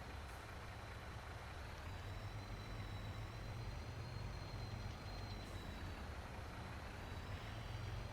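A dump truck engine in a farming video game rumbles steadily at low pitch for the whole stretch, with a faint high whine above it and no voices.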